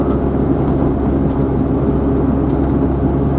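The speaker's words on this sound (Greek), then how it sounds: "Έχουμε πίσω μας λεωφορείο που προσπαθεί να μας προσπεράσει" A bus closes in behind an Opel Kadett on a provincial road near Epidaurus, heard only as a dense, steady, loud engine and road drone from inside the car, with no talk.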